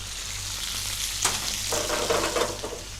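Garlic heating in a little oil in a pan, a close, steady sizzle with a brief crackle burst partway through and a slightly livelier fizz afterward.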